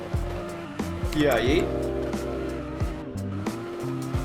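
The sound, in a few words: RX-7 with 2JZ engine drifting, from a video game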